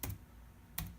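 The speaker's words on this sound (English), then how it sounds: "One-handed typing took me a little bit of time" A computer keyboard is typed on one-handed, giving two sharp, close keystrokes set well apart in a quiet room. The pause between them is slow and deliberate.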